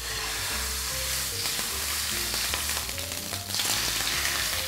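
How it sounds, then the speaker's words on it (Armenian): Pork tenderloin fries fatty side down in a few drops of olive oil, giving a continuous crackling sizzle with occasional sharper pops, close and steady, while faint background music plays underneath. "Խոզի փափկա միսը կսկսեմ տապակել յուղոտ մասից։"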